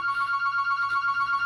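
Close and loud, a landline-style phone trills in a rapid pulsing electronic ring that keeps a steady rhythm through the whole stretch, alone without talk.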